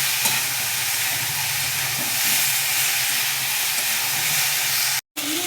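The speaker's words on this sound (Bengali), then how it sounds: "এবারে দিয়ে দেবো আদা রসুন আর কাঁচা লঙ্কা বাটা। এটাকে দিয়েও আমি একটু মশলাটাকে কষিয়ে নেব।" Vegetables fry in a pan with ginger, garlic and green chilli paste, giving a steady, close, broad sizzling hiss that runs continuously before stopping abruptly near the end.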